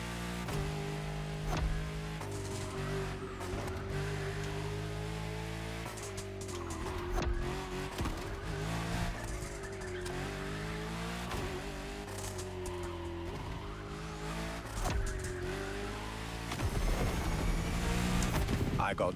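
An Akylone, a French luxury hypercar with four-figure horsepower, drives in The Crew Motorfest, its engine droning and shifting pitch as it accelerates and eases off, with brief tire noise, while someone narrates over it.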